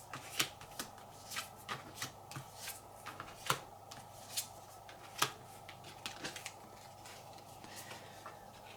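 Cards being discarded in a solo tabletop game about factories, a run of soft, close shuffling and flicking sounds with small clustered taps, quiet and alone without talk.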